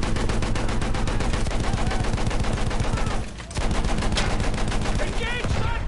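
Heavy guns in the tank battle game Steel on Steel pound out rapid, evenly spaced shots in a loud sustained burst, breaking off briefly midway before resuming.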